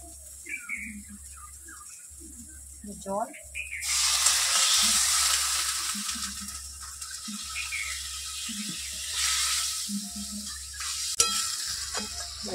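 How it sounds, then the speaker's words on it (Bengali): Water poured into hot oily fried spice masala for a potol (pointed gourd) kofta curry, giving a loud burst of sizzling and hissing that settles into a steady frying crackle with stirring scrapes, under a low steady background hum. "পটলের কোপ্তা কারির জন্য মশলা খুব ভালোভাবে কষিয়ে নিয়েছি। এবার দেবো জল।"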